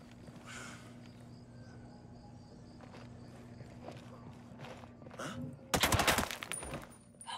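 Gunfire in the video game Ghost Recon Breakpoint, a quiet stretch of ambient hum and faint movement broken near the end by a loud, sharp burst of rapid shots, with faint speech in the background.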